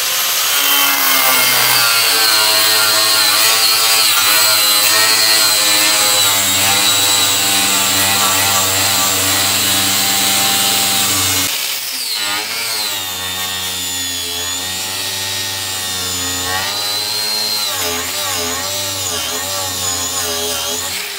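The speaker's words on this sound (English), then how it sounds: "So we're gonna try cutting this with an angle grinder and a cutoff wheel now." An angle grinder with a cutoff wheel cuts into river table wood held in a post vise. It gives a loud, continuous whine that dips and shifts in pitch partway through as the blade bites, with no voices.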